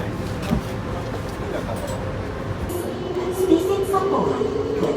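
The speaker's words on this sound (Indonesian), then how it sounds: "Kita lagi naik MRT." An MRT train runs through Kuala Lumpur with a steady low rumble and hum of the carriage in motion, and faint tonal whines rise toward the end.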